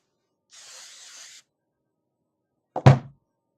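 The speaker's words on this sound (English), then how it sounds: "I just take my hairspray at the end" Hairspray hisses in one short burst of about a second onto freshly curled hair, followed after a pause by a single dull thunk as the can is set down.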